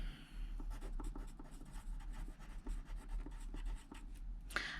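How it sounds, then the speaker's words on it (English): A pen writing on a paper sewing pattern in a quiet room, quick close scratchy strokes in short bursts with a low steady hum beneath. "so I'm going to write on here that it's a size 12"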